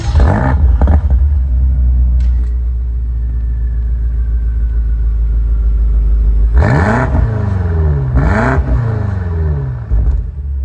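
A 2022 BMW M8 Competition with a twin-turbo 4.4-liter engine idles with a loud, deep rumble, then erupts into two sharp revs that flare and fall back to idle.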